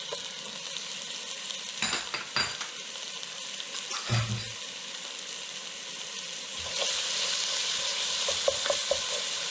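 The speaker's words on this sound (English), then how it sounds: "And we'll give this a good whirl, saute for about 30 seconds" Garlic, ginger and peppers sauté in a hot pan in a steady, close frying hiss, with a few clinks and scrapes from stirring. The sizzle swells louder near the end.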